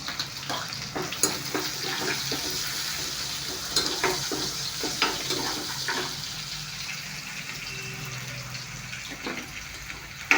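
Green chilies frying in a pan for a spiced beef dish, a continuous hissing sizzle broken by spoon scrapes and stirring clatter that lasts the whole time.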